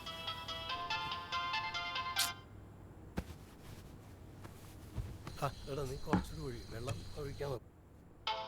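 A phone's ringtone plays a repeating tonal melody at the start and cuts off after about two seconds. Other tonal sounds and voices follow, with talk running underneath.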